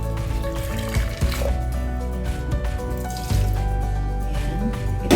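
Already-boiled water poured into a pasta dish with lemongrass, a steady gurgling, bubbling pour with small splashes and drips, close and continuous.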